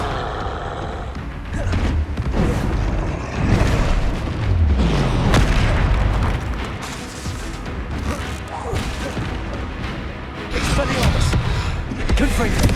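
Confringo blasting spells explode in Hogwarts Legacy, a string of loud booms and crashes that come and go over several seconds, with a voice speaking over parts of the battle.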